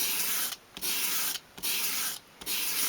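Dolls house skirting is swept across an abrasive surface at a 45-degree angle to bevel its edge, producing three even, raspy sanding strokes separated by brief pauses, close and steady.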